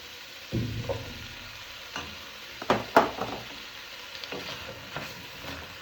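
Mushrooms tipped into a hot pan for a minted chicken pasta, giving a low sizzle broken by scraping stirs and a few sharp clinks of a utensil on the pan, close by.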